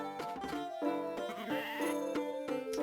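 Sheep bleat in Harvest Moon DS Cute, heard as several repeated, tonal game-style calls in a steady rhythm with chiming background music.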